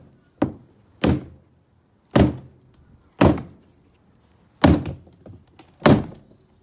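Six loud, separate hammer blows on a dented car body panel, spaced roughly a second apart, each a sharp metallic bang that quickly dies away. No voices.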